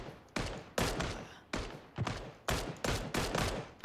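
Gunfire in the battle royale game PUBG arrives in seven or eight sharp, loud reports spaced about half a second apart, each trailing a short echoing decay, with no speech.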